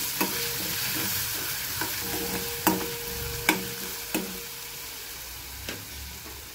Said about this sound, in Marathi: तर आपण ही हिरवी मिरची व्यवस्थित अशी परतून घ्यायची।